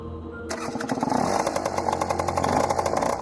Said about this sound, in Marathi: तिने स्कूटर स्टार्ट केली